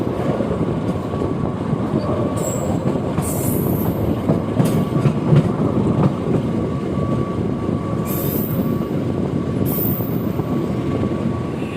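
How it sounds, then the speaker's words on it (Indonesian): Mutiara Selatan passenger train rolling along the rails on the Kroya–Purwokerto line, a steady loud rumble with rhythmic wheel noise and occasional high squeals, heard continuously from on board. "kereta api Mutiara Selatan telah tiba dan berhenti di stasiun Kroya"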